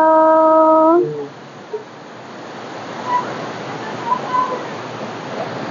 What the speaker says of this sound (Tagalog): Dumating na kami sa falls.